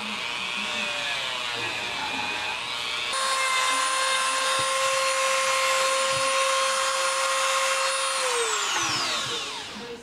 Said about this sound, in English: I've got the wire brush on here.